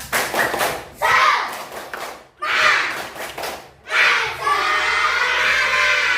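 Schoolchildren in a classroom perform the 'tepuk semangat' clapping chant, bursts of loud rhythmic group clapping and shouted chanting in several phrases separated by short pauses, ending in a sustained chorus of voices.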